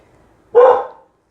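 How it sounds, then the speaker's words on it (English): A dog named Miss Faith gives a single loud, close bark, a short sharp burst that fades quickly into quiet. "that's my Miss Faith barking at somebody"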